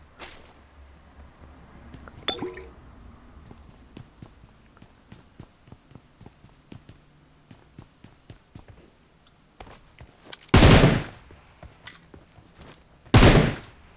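Gunfire in the mobile battle royale game PUBG Mobile: a long run of sharp, evenly spaced single shots at moderate distance, followed by two much louder, close bursts near the end.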